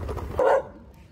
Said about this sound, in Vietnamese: Người quen mà, đừng có sủa chứ.